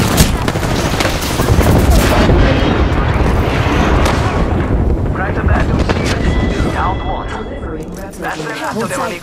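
Dense, sustained gunfire and explosions from an Apex Legends ranked trios match fill the whole stretch, loud and continuous, easing slightly toward the end.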